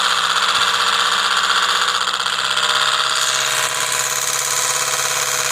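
An electric traction motor from a 1970s city car postal van runs steadily while a commutator stone is pressed against the spinning armature, giving a loud, continuous whirring hum with a faint scraping grind layered over it.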